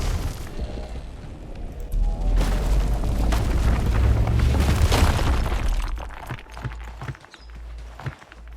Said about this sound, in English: Rock explosion.